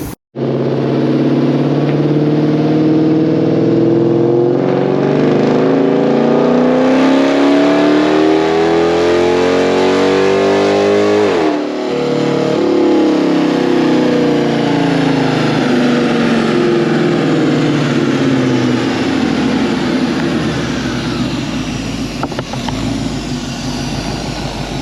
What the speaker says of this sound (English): Much better idle, nice and smooth.